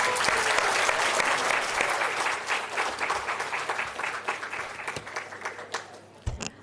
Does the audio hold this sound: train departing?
no